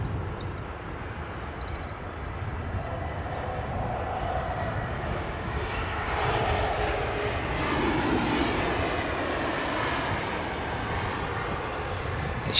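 An Airbus A320-family jet airliner fitted with sharklet wingtips passes at London Heathrow, its engine roar a steady, moderately distant rumble that swells slightly midway and holds throughout.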